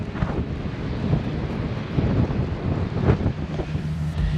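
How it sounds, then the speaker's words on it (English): Strong wind gusting hard across the microphone during a record-breaking Christmas Eve snowstorm, a steady roaring rush with louder buffets surging and easing, with no talking. "listen to the wind when I hold you up here"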